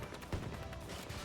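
Pistol gunfire during a Battlefield match with an M1911, a brief burst of faint, quick shots heard at a distance within the game's background noise.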